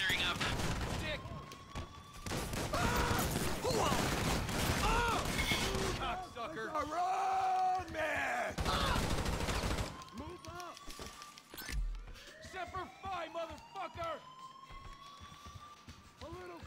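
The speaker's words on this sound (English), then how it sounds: "I had to shoot that dude right there." Dense, rapid gunfire from the video game GTA V during a diamond heist, loud and continuous in long bursts with short pauses, mixed with wailing police sirens and game effects.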